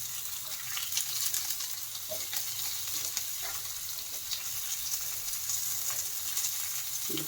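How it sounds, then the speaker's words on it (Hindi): Tomatoes sauté in a dry pan for veggie tikki burger patties, giving a steady close sizzle and crackle with occasional soft stirring knocks and no talk. "टमाटर का भी उसी तरह सॉटे कर लेंगे।"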